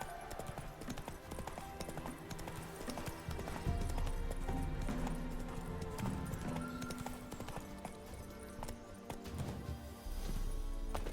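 Roach, Geralt's horse in The Witcher 3: Wild Hunt, gallops with steady, rhythmic clip-clopping hooves under a bed of music, loud and close throughout, with a brief whinny-like sound.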